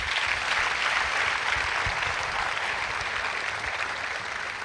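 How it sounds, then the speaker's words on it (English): An audience at a business forum applauds steadily for several seconds, a dense, even wash of clapping from a large crowd in a hall. "Please give all three of them another round of applause."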